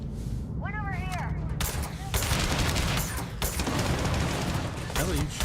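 Dense gunfire in Starfield aimed at the player character, sharp bursts and rattling shots crowding one another through the stretch with a voice talking over part of it.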